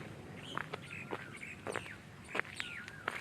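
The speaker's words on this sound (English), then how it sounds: "You're welcomed by the chirping of the birds." Birds chirp and call repeatedly in the grounds of a countryside manor cottage retreat, bright sweeping whistles and short tweets at a moderate distance over a soft outdoor background, with no talking.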